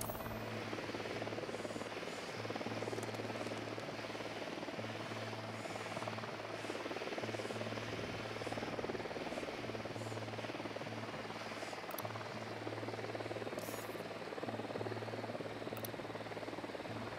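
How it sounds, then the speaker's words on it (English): An enemy helicopter on patrol in Ghost Recon Wildlands, a steady, distant rotor drone that holds unchanged throughout with no talking over it. "Hit the dirt, helicopter."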